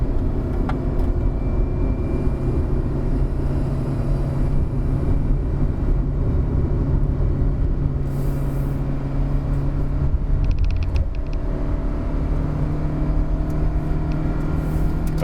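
A 2019 Proton Saga automatic climbing Genting Hill, its engine droning steadily and loud from inside the cabin, with a brief change in pitch midway as the transmission shifts gears.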